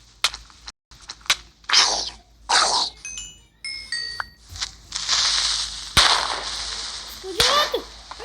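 A Minecraft survival game session with sharp blasts and bursts, one being a creeper exploding, mixed with short game effect sounds like pops and dings, loud and close.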